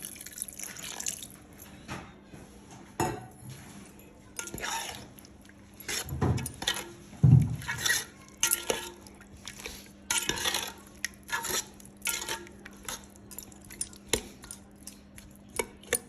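Lemon juice from five or six lemons is stirred into a gooseberry pickle, giving wet, dripping squelches and light clinks of a utensil against a container, intermittent and close.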